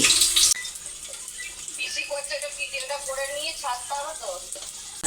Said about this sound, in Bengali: সয়াবিন দিয়ে ভেজে নিচ্ছি